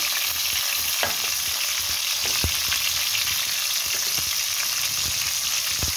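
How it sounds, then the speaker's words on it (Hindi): Sliced onions frying in hot oil, a loud, continuous close sizzle broken by scraping and stirring. "प्याज तो चली गई है तेल के अंदर अब मैं इसको थोड़ा सा फ्राई करती हूँ"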